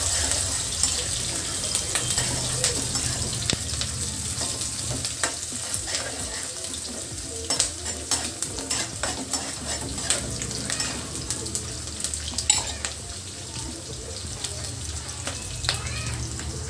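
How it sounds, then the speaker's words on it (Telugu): Curry leaves and onions frying in a pan, giving a steady close crackling sizzle throughout with scattered sharper pops and stirring clicks, with no voices. "కరివేపాకు వేస్తున్నానండి మంచి కలర్ వచ్చే వరకు"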